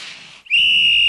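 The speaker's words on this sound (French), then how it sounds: "L'arbitre siffla." Referee's whistle at an ice hockey game: a single loud, shrill sustained blast beginning abruptly after a hiss of arena noise and holding steady to the end.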